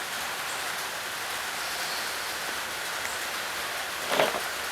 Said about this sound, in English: Rain's picked up again.